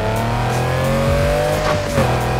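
A Lamborghini V12 engine revs in the video game Need for Speed Heat, a loud sustained engine roar whose pitch climbs and dips through gear changes, close and dominant with no talk.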